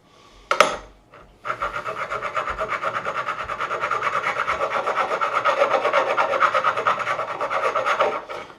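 Abrasive rubbed across the frets of a PRS SE Bernie Marsden guitar during fret levelling, a close, steady rasping scrape in quick back-and-forth strokes lasting several seconds after a brief knock at the start.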